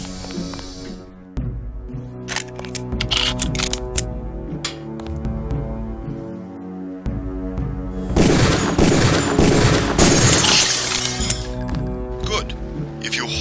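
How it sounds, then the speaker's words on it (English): Pistol shots fired at a training target in the Deus Ex video game, a string of sharp separate reports with clinks of impact, followed by a denser, louder burst of noise near the end. "Release the first target and take a few shots with one of the pistols until it is destroyed."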